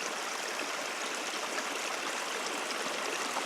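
Creek water flows steadily downstream in a wooded Cumberland Plateau setting, a continuous close rushing and babbling with no pauses and no voices.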